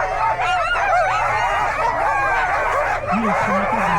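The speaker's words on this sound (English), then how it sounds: "Mark is 31, mushing out of Crooked Creek Kennel with 35 dogs" A pack of sled dogs at the Kuskokwim 300 race start line barks, yips and whines excitedly, a loud, dense chorus of overlapping close voices that continues without a break.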